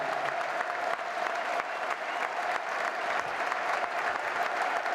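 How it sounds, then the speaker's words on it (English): A football stadium crowd at a Millwall v Wrexham Championship match gives a minute's applause in memory of Tim Sells, a steady, roaring, unbroken wall of clapping from thousands of hands. "The applause will start and end on the referee's whistle."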